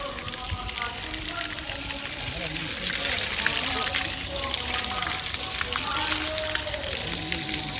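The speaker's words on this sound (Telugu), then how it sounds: "మనకి నంది నోట్లో నుంచి నిరంతరం వాటర్ అయితే వస్తూ ఉంటుంది" Water pours continuously from the mouth of a stone Nandi statue at the Ramagiri Shiva temple, a steady splashing gush that grows slightly louder and lasts throughout.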